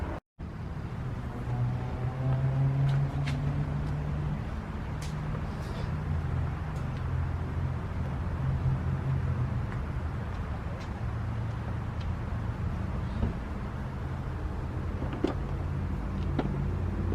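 A Polaris Predator 500 ATV engine runs steadily on a test ride, a continuous low rumbling drone that stays at an even, fairly loud level throughout, with no talking.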